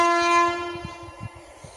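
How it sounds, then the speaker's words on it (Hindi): Train passing a rail crossing on a village road, a loud sustained horn blast over rhythmic clattering wheels on the track close by. "और देखो ट्रेन जा रहा है"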